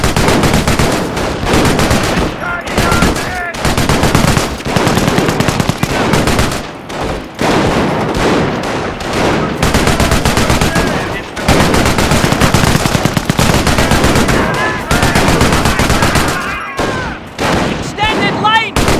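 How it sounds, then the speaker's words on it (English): A machine gun emplacement in the Company of Heroes strategy game fires long, loud rattling bursts at attacking infantry, with near-continuous gunfire broken by brief pauses and mixed with explosions and battle noise. "An MG emplacement is an excellent defense against attacking infantry."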